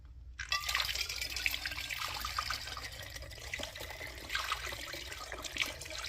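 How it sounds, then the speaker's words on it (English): Oily machine coolant pours and trickles into a glass separatory funnel, a close, continuous liquid gurgle starting abruptly and varying in splash intensity, with no talk. "I just load this into the separatory funnel"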